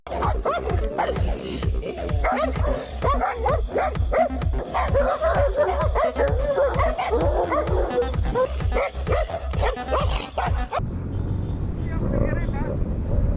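Several dogs bark and yip at the roadside as a motorcycle rides the winding Marilaque highway at night, a steady engine drone beneath; a rider talks over the sound before the engine noise drops near the end.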